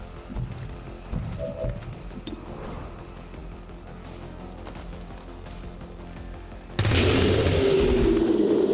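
Gunfire in the video game XCOM 2: War of the Chosen, a few scattered shots and thuds at first, then a sudden loud sustained burst of automatic fire and impacts that fills the final seconds.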